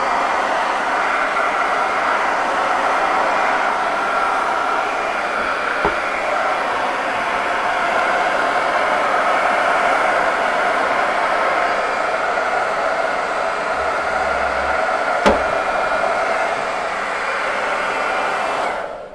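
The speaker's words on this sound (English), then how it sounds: "I take a hairdryer and put it on hot," A hair dryer set to hot blows a steady, loud, even whoosh for almost twenty seconds, with a faint click partway through, before it shuts off at the very end. No one speaks.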